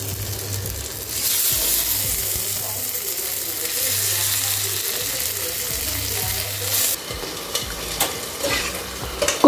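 Garlic prawns fry and are stirred in cold-pressed peanut oil in a home kitchen: a steady, loud sizzle with scraping and clinking from the stirring, running throughout.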